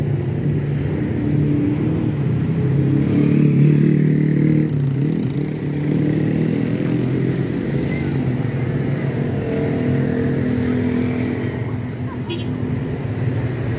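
NPM bus number 11 pulling out of a terminal bound from Medan, engine rumbling and revving steadily while someone talks over the traffic noise.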